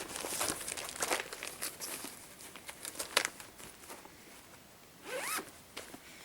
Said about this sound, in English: So I did zip it up, didn't I?